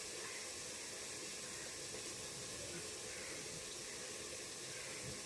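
Potatoes frying in a pan for aloo dum give a steady, broad hiss that holds evenly for the whole stretch, close and moderately quiet with no break.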